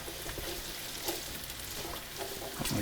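Celery, onion and garlic sizzling in a pot while making New England clam chowder, a steady, quiet frying hiss throughout, broken by a few soft clicks and taps of stirring.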